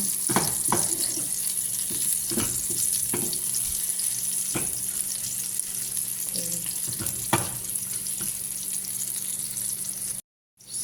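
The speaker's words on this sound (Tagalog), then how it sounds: "Haluin lang natin." A canned tuna dish with potatoes sizzles in a frying pan under steady stirring, a continuous hiss broken by occasional scrapes and taps of the utensil, close up, ending in a sudden cut to silence.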